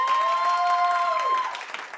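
A talk-show studio audience claps steadily for about two seconds; the dense, even applause carries a pair of sustained tones through most of it before thinning at the end.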